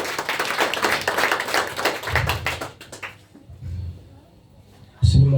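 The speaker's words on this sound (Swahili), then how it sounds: "Supe sadaka nzuri ya makofi." Church congregation at a main service giving an offering of applause: loud rhythmic clapping for a few seconds that fades into scattered claps and quiet murmur, then a sudden loud burst at the end.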